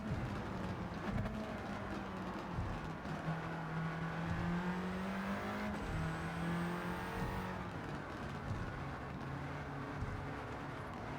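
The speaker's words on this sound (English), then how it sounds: "Pumping the throttle because I turned in a bit too early." An Audi TT racing at Tokyo Expressway in Gran Turismo 7 revs up and down as the throttle is pumped, its engine note climbing and dropping in repeated surges, close and steady with a faint tire squeal.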